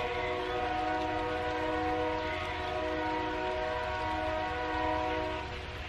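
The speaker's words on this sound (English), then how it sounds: "This train will give me time to think about my wording." A train horn blares in a long sustained chord over the low rumble of rolling rail cars, steady and fairly loud throughout.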